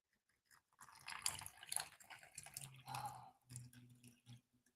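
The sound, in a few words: pouring coffee into a cup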